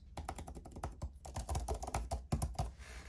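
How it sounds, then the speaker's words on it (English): Close-up typing on an iPad Pro Magic Keyboard's scissor-switch keys, a rapid run of light, crisp key clicks and taps with uneven rhythm. "These are scissor switches, so it is similar, if we listen to that"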